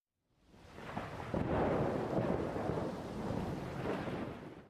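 A deep roll of thunder swells in and rumbles on steadily, loud and broad, with rain hissing underneath, during a night thunderstorm with hundreds of lightning strikes in Beijing.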